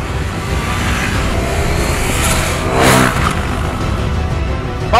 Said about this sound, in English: even the exhaust note is something you would like compared to the older Duke